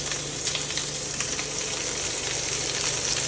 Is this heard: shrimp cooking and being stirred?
yes